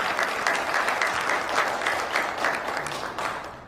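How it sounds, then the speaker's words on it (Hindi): A seminar audience claps together in a steady burst of applause, many hands at once with a slightly pulsing rhythm, lasting a few seconds before fading at the close. "एक जोरदार तालियां के लिए।"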